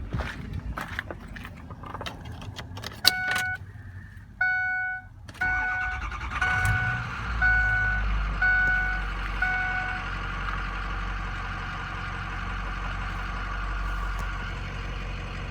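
A 2006 Ford F350 diesel pickup cranks and fires up nearby, settling into a loud, steady diesel idle after a few short mechanical beeps and clicks.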